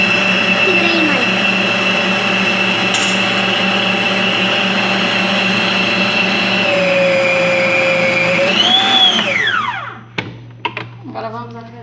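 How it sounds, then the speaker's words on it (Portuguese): A blender whirs steadily as it purées cassava (macaxeira) for a cassava cake batter, its motor pitch shifting slightly as the load changes, then winding down and stopping near the end with a few clinks afterward. "Vamos bater com a macaxeira."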